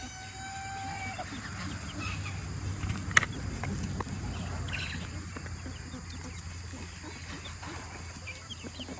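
Chickens cluck and murmur steadily at a farmyard feeding spot while scattered feed is eaten during morning chores, with a brief sharper call near the middle and a constant low background hum throughout.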